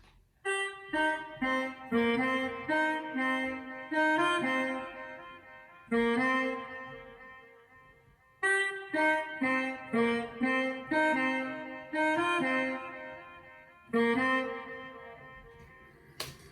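A reedy keyboard melody plays sustained, wavering notes in short phrases, with a soft reverberant tail lingering after each pause, quiet and without voices.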